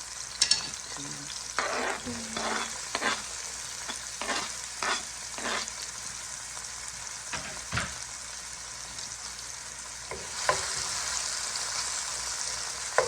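Chopped onions sizzle steadily in a hot pan while a spatula stirs them every second or so, sending out sharp scraping bursts, all close and fairly quiet, with no voices.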